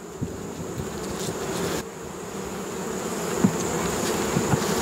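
Honey bees buzzing steadily in an opened hive during feeding with pollen substitute and sugar syrup, a close, continuous drone with a few individual bees zipping past the listener.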